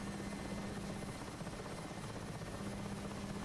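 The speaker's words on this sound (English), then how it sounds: "Currently, the Mi-8 is one of my favorite helicopters, if not the favorite helicopter." An Mi-8 helicopter flies in the DCS combat flight simulator, giving a continuous, close rotor and turbine drone with a steady low thrum. No one speaks.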